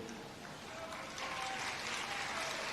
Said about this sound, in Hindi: आपने जब तालियां बजाई हैं